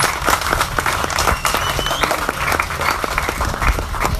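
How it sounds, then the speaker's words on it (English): Loud, dense crowd applause at a PEP political rally in Barataria, close and sustained throughout with a thick wash of overlapping claps and no pause. "I think we should give him a really huge round of applause"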